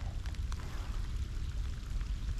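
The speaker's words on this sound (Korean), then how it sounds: "천둥 번개가 치고 비가 내리고" Rain falls steadily during a thunderstorm while bass fishing outdoors, a faint, continuous hiss of drops with low rumbling underneath and no voices.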